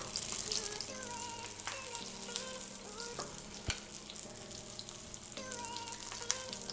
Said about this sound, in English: we are good to start frying up these egg rolls